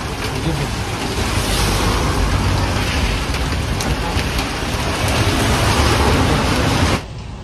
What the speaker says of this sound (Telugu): భయంకరమైన వర్షం.